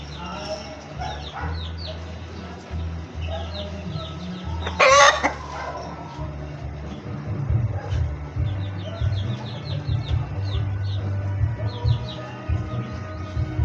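Several gamefowl chickens on a game farm cluck and murmur nearby, with a rooster crowing once partway through and a low voice talking underneath.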